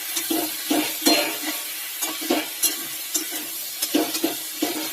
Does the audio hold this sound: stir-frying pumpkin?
yes